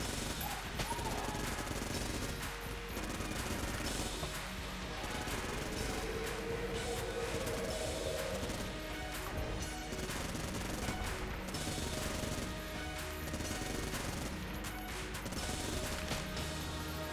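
Rapid automatic gunfire from the Enter the Gungeon video game, a dense continuous barrage of shots that keeps going steadily for the whole stretch, loud and busy with game music and effects layered underneath.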